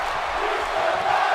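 Arena crowd roaring and cheering during a wrestling match in the video game WWE 2K18, a steady dense wall of crowd noise filling the whole moment with no gaps.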